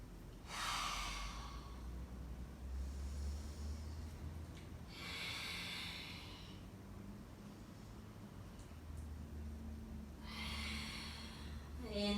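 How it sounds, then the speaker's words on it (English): Slow, deep yoga breaths during a mindfulness class, three long airy breathy swells spaced several seconds apart, quiet and close with soft hiss between them. "find 3 mindful rounds of breath"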